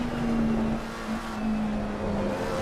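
Race car engine in a sim racing game holds a steady drone at mid throttle, continuous and fairly loud through the whole stretch, with no voice over it.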